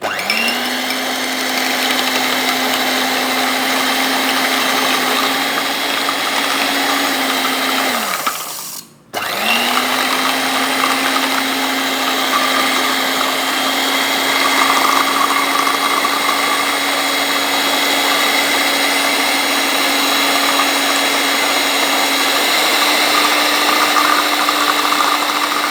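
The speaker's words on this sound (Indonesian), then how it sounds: "Kemudian langsung kita kocok menggunakan mixer." An electric hand mixer whips espresso for dalgona coffee, running as a steady loud motor whine for about eight seconds. It cuts out briefly, then runs on evenly for the rest of the clip.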